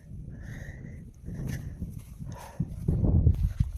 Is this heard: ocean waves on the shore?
no